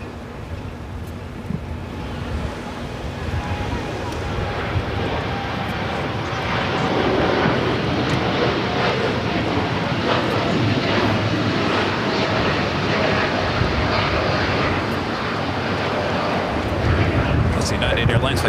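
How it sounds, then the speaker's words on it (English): A United Airlines Boeing 787-9 Dreamliner jet roars steadily at LAX, a loud broadband engine rumble that swells and holds for many seconds, audible at a distance. "United Airlines flight 1704 heading to Newark in a 787-9 Dreamliner."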